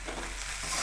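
Poha frying and being stirred in a pan for batata pohe with potato and coriander, a steady soft sizzle with scraping under it, brief and close, no voices.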